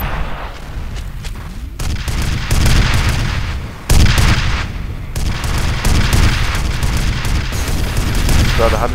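Loud gunfire rings out in the video game F.E.A.R. at an industrial compound: heavy, repeated shots and booming bursts fill the stretch almost continuously, with a brief lull partway through.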